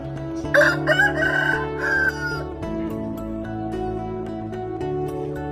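A young Burmese-type fighting cock crows at a Thai farm, one loud, close crow in the first couple of seconds with nearby fowl clucking and calling, then steady low background sounds of other birds.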